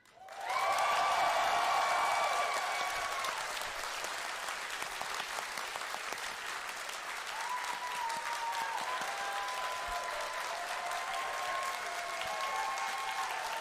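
Dense clapping from a live convention panel audience fills the space, with tonal music playing underneath throughout; the applause stays steady and fairly loud from start to finish.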